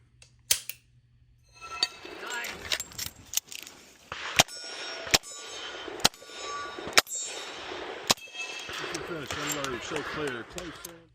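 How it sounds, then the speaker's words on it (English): Moon clips drop into the cylinder of a left-handed competition revolver, giving several sharp metallic clinks and clangs spread over the span, with quiet handling rustle between them and no talk. "This gun is loaded by utilizing moon clips, which you just drop right in there"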